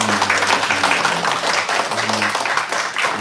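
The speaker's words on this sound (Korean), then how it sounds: "박수 한번 하겠습니다" A church congregation applauds during a Sunday worship service, a dense, steady patter of many hands clapping together close and loud throughout, with no one speaking over it.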